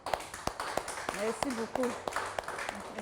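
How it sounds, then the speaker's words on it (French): A small audience at a wellness product presentation gives scattered, sparse claps in a room, a few sharp individual hand claps spaced apart while a person speaks over them. "applaudissez."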